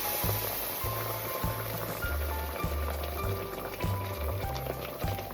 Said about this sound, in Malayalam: നല്ല തിളച്ച വെള്ളം ഒഴിച്ചു കൊടുക്കാം